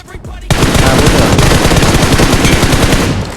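Rapid automatic gunfire from a bot in PUBG Mobile, loud and close, a sustained burst starting abruptly after a brief quiet moment and continuing steadily to the end.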